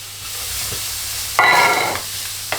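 Onions dropped into a hot pan sprayed with olive oil, a quiet background hiss followed by a sudden loud sizzle and a brief stir near the end.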